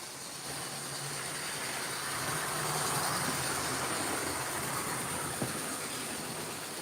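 An HO-scale model train running on its track, a steady rolling hiss and rumble that holds at an even level throughout, with no voices.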